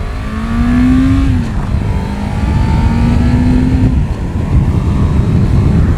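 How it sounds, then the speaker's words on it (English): A Yamaha FZR 1000 motorcycle, whose clutch had been slipping, accelerates hard, its engine climbing in pitch through about three gears with two quick shift breaks, loud and close under steady wind rush. "the bike had a slip and clutch under heavy acceleration, so let's give it a go."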